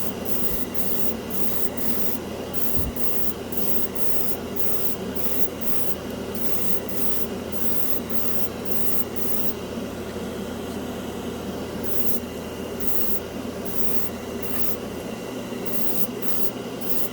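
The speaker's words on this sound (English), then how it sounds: "we'll see how it shoots using the better airbrush" Airbrush spraying cheap craft store acrylic paint for scale models: a steady, close hiss of air and paint running throughout, with brief regular dropouts where the trigger is released and pressed again.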